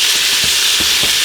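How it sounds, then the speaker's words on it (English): Food browns in a pot for creamy lasagna soup, giving a loud, close, continuous sizzle with a few soft stirring scrapes underneath. "We're just going to brown it."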